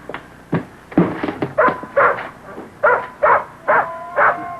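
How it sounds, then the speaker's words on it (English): A dog indoors barks and yips in a steady series of sharp, close barks, about eight or nine in a row, with a whimpering edge and a few thumps between, from a 1960 television drama. "Mrs. Gillis, you're not going to let that dog in here."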